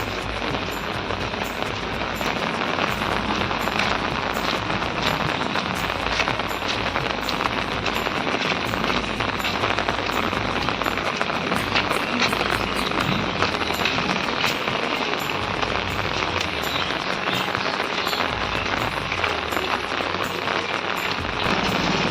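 Heavy rain pours down in a steady, dense roar, constant and loud for the whole stretch with a thick spatter of drops on surfaces and no voices.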